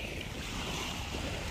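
Calm sea waves wash softly on a beach, a faint, steady hiss of surf with wind noise and no distinct breaking crashes.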